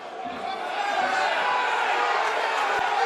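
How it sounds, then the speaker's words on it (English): Rovers rugby league fans chant and sing at an away match against Batley Bulldogs, a broad, sustained crowd roar from the stands to one side, with a commentator talking over it. "It's the Rovers fans you can hear singing to our left."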